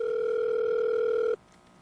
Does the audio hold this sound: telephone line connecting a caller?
yes